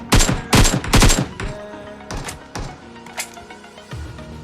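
Bot enemies firing in a shooter video game: three loud, close, rapid gunshots open the sequence, followed by a few more scattered shots and a distant crack, each ringing out briefly.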